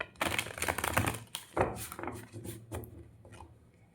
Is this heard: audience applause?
no